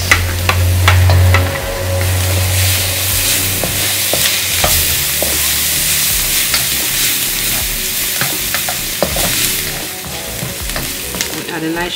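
Garlic and onions fry in butter for garlic shrimp, a loud, close, continuous crackling sizzle with frequent pops and stirring scrapes, a low thud or hum near the start, no voices.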